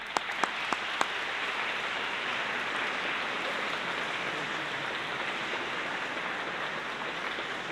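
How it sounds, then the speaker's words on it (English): Graduates at a university graduation ceremony applaud their supporters: a few sharp individual claps open before a broad, steady wash of crowd clapping fills the hall, moderately distant and even. "Please, will you applaud them in return?"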